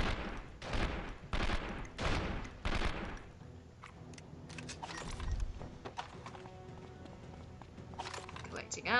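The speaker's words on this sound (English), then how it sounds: "Stop shooting at me." Rapid bursts of gunfire in 24: The Game hammer toward the player, loud repeated volleys in the first few seconds, then scattered shots and impacts continue under someone talking.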